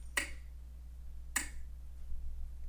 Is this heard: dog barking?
no